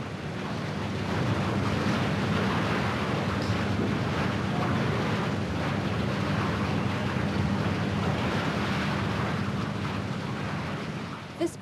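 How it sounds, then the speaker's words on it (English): Argon gas bubbling through molten steel in a steelworks ladle gives a steady, loud, broadband roar with a low rumbling undertone, continuous and unbroken throughout. "the noble gas argon is bubbled through the liquid. This stirs it up"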